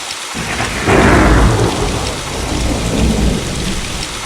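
Heavy rainstorm pouring steadily with a loud rumble of thunder swelling in early on and rolling on beneath the downpour, no voices.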